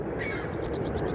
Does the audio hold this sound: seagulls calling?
yes